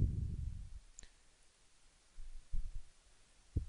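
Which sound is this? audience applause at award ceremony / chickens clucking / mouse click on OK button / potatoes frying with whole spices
mouse click on OK button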